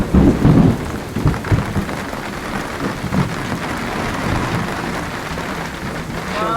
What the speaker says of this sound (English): At last we have rain.